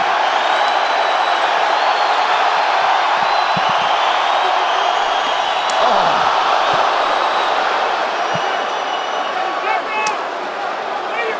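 A UFC arena crowd in Denver, on its feet, roars in a loud, sustained wall of cheering with whistles and shouts, as a commentator talks over the din.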